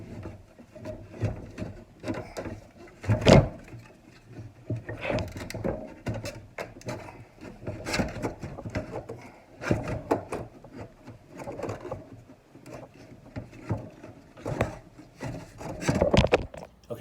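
An alternator is worked up and out of the engine bay of a Hyundai Sonata with a 2.4L engine, giving irregular scraping, rubbing and knocking of metal parts at close range with brief clunks throughout.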